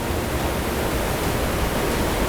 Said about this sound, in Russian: Здесь так громко, все шумит, бурлит.